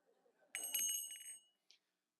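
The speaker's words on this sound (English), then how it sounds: "I guess I do have a bell" A single bright bicycle-style bell ring, clear and close, with a short faint second ding a moment later.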